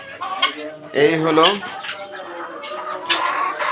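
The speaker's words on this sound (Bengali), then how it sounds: "আমার মুরগিগুলো।" Farm chickens and a young rooster cluck close by, their calls mixed with someone talking over them throughout.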